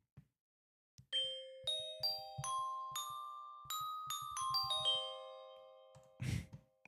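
Glockenspiel bells from a music production program play a rising and falling run of bright, ringing single notes in a spooky beat, with soft clicks around them and a brief noisy burst near the end.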